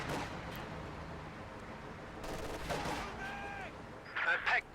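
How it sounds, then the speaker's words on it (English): Gunfire and artillery booms from a pak anti-tank gun in the video game Company of Heroes 2, a dense battle soundscape with a louder burst of shots near the end and some talk underneath. "Pack gun does miss its first shot. Second shot does land."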